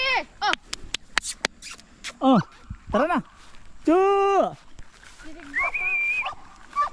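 A dog barks and yelps in short sharp bursts, with a longer whining cry, close by and loud, mixed with people calling out in between.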